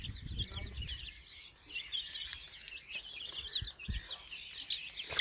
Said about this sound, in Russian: тут есть 2 цыпленка, лохмоногие красавчики